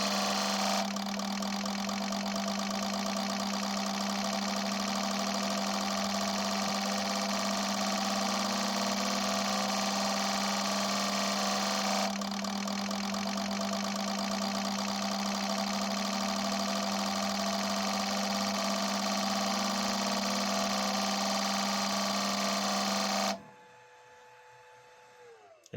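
A VR6 fuel injector cleaner machine runs at 2600 RPM with a loud, steady mechanical buzz and strong hum. It holds continuously for about 23 seconds and then cuts off abruptly into near silence.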